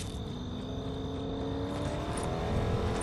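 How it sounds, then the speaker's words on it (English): A video game car engine drones steadily at moderate distance, its tone holding fairly even with a slight swell near the end. "I hear a car."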